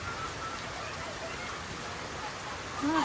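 Steady rain hisses down as a continuous wash of noise, with a faint voice briefly surfacing near the end.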